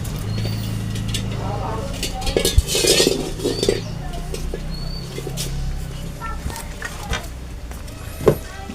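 Washed leafy greens (नाळीचा पाला) being chopped with a knife, giving soft irregular taps and scraping on a board, with birds chirping and speech heard in the background.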